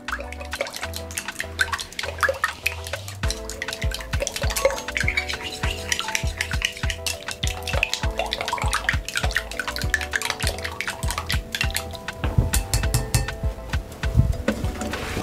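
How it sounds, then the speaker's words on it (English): Eggs whisked with a pinch of salt in a bowl, a rapid continuous clicking and sloshing rhythm close by, with brief pauses and a few louder taps of the whisk against the rim. "You whisk it evenly."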